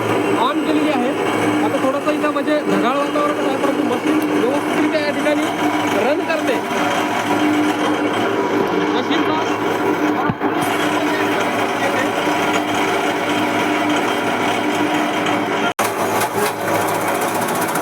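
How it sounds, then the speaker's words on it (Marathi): A 5 HP solar-powered chaff cutter grinds steadily and loudly throughout, a dense continuous mechanical whir with a brief clunk near the end. "ही पाच एच पी कुट्टी मशीन या ठिकाणी जोडली आहे"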